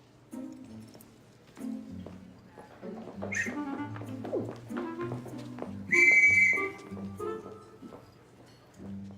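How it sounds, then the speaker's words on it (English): A whistle blown in a film scene, shrill tones sounding in short bursts with one longer loud blast near the end, amid talk, a dog's whimpering and other background sounds. "Whistle."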